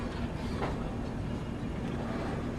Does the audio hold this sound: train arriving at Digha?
yes